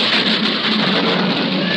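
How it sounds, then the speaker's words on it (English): Dense, steady hiss of rain falling, a continuous close wash of sound with no talking. "We did it. We made it rain,"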